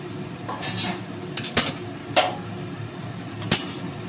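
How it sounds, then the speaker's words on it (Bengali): A cooking pot lid is lifted off a simmering pot of sweet potato greens and fish-head curry, giving a few sharp metallic clinks and knocks spread over several seconds, close up. "আমি ঢাকাটা খুলে নিচ্ছি"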